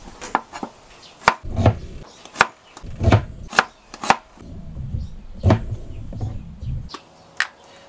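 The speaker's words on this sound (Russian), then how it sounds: "Нарежем лук полукольцами." A knife chops an onion into half rings on a cutting board, crisp sharp thuds in an uneven rhythm, close and loud with no talking.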